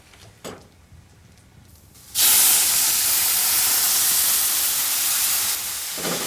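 A quiet kitchen gives way to a sudden loud, sustained hiss and sizzle as milk hits a hot pan of simmering risotto, easing slightly after a few seconds.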